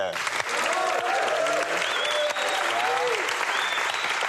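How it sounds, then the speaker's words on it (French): An audience applauds loudly and without a break for a guest on a French TV game show, with cheering voices rising above the clapping. "je vous demande d'applaudir le courage de l'invité"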